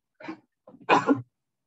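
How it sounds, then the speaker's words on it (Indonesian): A short soft cough followed by a louder, fuller cough, close and alone with no talking. "Sorry aku agak batuk-batuk ya"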